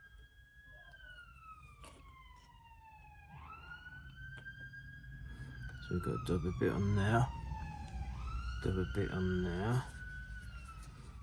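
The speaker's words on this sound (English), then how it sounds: "you have to excuse the sirens." Wailing sirens rise and fall continuously in the distance, with someone speaking over them and some clattering handling noises.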